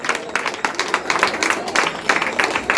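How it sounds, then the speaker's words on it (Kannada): A crowd at an award ceremony for children applauds loudly, a steady wash of many hands clapping close by, continuing without pause for a few seconds. "ಈ ಕಡೆ ಜೋರಾಗಿ ನೋಡಿ ಚಪ್ಪಾಳೆ. ಜೋರ ಚಪ್ಪಾಳೆ."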